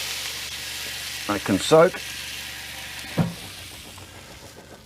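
Steady frying sizzle from a hot pan with dishwashing liquid squirted in after cooking Y-bone steak and mushrooms, a broad hiss running throughout, with a brief hard clatter midway and a voice speaking briefly.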